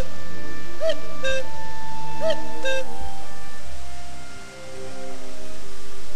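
A cuckoo calls its two-note cuckoo twice in a spring setting, clear and fairly close, over a quiet steady background.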